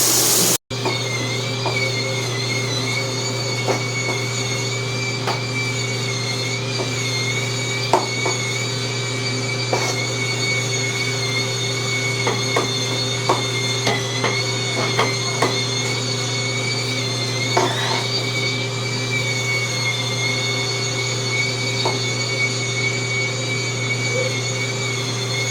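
An electric spin scrubber hums and whines steadily at close range, a constant motorized drone with small pitch shifts and faint knocks as it scrubs, heard alone without talk.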